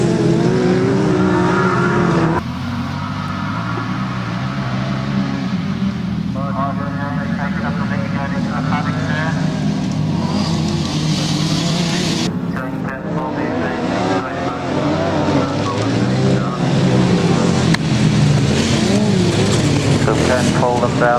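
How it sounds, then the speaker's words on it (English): Grasstrack racing motorcycle engines roar loudly and continuously through a 2000 meeting, with revving surges and passing bikes, while a commentator talks over the engine noise throughout. "So Martin Jones has a rather quick engine there by the look of it"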